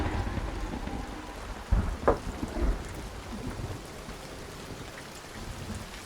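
Heavy downpour in the Hunt: Showdown swamp, steady rain drumming with a couple of deep thunder rumbles rolling through near the middle, no voices.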